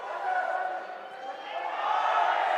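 A stadium crowd at a Kings League football match roars in a continuous, swelling wash of cheering and chanting, heard from a distance.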